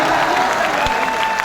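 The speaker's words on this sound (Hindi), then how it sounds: "ताली बजा दो यार।" An audience at a poetry mushaira in Aligarh applauds, with steady close clapping and faint crowd murmur beneath.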